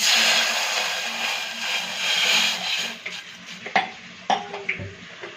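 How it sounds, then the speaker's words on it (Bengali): Water pours into a pan while momo is being cooked, a loud, steady hiss and rush for several seconds, then a few close clinks and scrapes of utensils against the pan. "এবারে দিয়ে দিচ্ছি জল"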